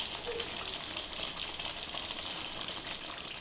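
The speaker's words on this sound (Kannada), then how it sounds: "ಈಗ ಇದಕ್ಕೆ ಸ್ವಲ್ಪ ಕರಿಬೇವು ಹಾಕ್ತಾ ಇದ್ದೀನಿ." Curry leaves frying in oil in a hot pan, a steady close sizzle with crackling spatter that continues evenly throughout, no voices.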